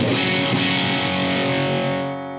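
An electric guitar through an Orange Guitar Butler pedal, guitar volume turned up high, blasts a heavily overdriven chord, thick and fuzzy, sustaining loudly before starting to fade near the end.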